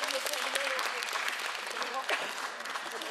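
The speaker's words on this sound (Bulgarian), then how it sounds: "Вашите аплодисменти са за Йоанна Колесниченко от Варна" An audience at a children's singing concert applauds in steady, dense clapping throughout, while a presenter speaks over it.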